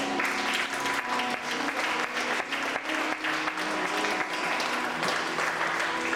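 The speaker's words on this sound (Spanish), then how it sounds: "Denle un fuerte aplauso." Loud, sustained applause from a church congregation fills the room, dense clapping from many hands that continues steadily without a break.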